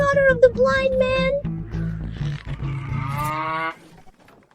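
A cow lowing in a long, drawn-out moo near the start, followed by more mooing mixed with raised, agitated voices in a dramatized village scene.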